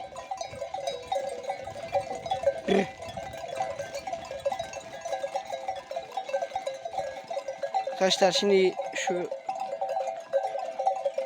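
A flock of sheep, including a black sheep with a white tail, on the Çat highland plateau near Bozkır, Konya. Bells clink steadily and a short bleat comes near the end, while a voice talks throughout.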